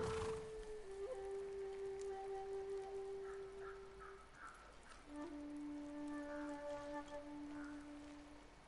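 Steady rain falls in the Ghost of Tsushima video game, a soft continuous hiss under sustained flute-like tones that shift pitch, with no voices.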